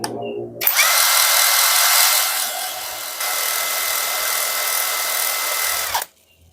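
A Monake 48S cordless impact wrench screams at high speed in one continuous run after a brief start, holding a bright, steady whine before cutting off abruptly.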